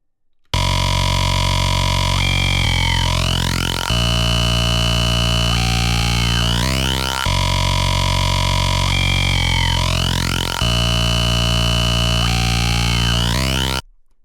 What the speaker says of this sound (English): This is the preset I use, which is the Echoes bass from Florence's Mayhem Serum Bank